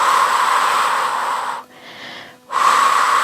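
Forceful, breathy exhalations during an abdominal exercise, heard close up: a long hissing blow, a short pause, then a second strong push of air.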